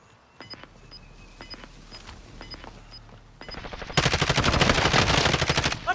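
Machine gun fire in the video game Warzone: a loud, continuous burst of rapid automatic shots erupts after a few quieter scattered pops and clicks, dominating the end of the clip.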